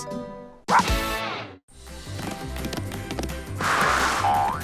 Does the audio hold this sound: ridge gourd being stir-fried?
no